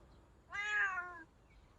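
A single cat meow, clear and close, rising then falling over under a second in otherwise quiet surroundings.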